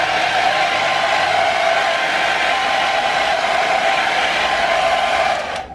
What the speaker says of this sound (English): I'm gonna get my blow dryer, dry that